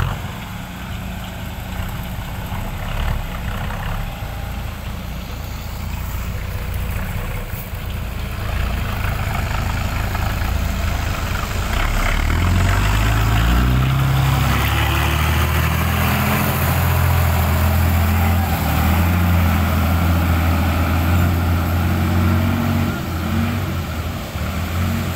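A sugarcane harvester turning back in a field gives a loud, steady diesel drone throughout, and a deeper engine rumble swells in the second half as the machine comes round close by.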